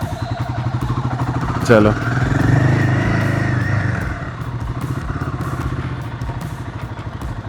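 Royal Enfield Himalayan 450 motorcycle ridden at low speed with half clutch, a steady close single-cylinder thrum that swells as the engine revs for a few seconds then settles back, with a rider speaking briefly over it.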